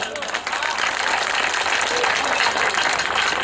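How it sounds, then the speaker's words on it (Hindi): An audience at an Indian mushaira poetry gathering claps in a sustained, moderate burst of applause that fills the hall, with voices mixed in underneath. "तालियां भी कमजोर थी, तालियां कमजोर थी"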